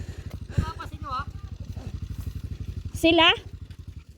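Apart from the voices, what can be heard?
motorcycles at a motorcycle terminal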